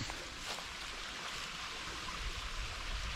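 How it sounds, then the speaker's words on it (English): A trickling stream running beneath an old bridge, a faint, steady wash of water heard from a distance with no voices. "a bit of a trickling stream down there"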